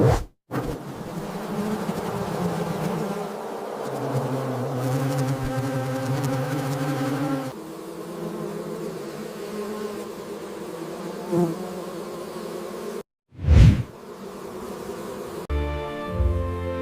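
Honeybees inside a hive at a honey production facility, a continuous dense buzzing drone with shifting intensity, broken by a couple of brief gaps and a short louder burst near the end.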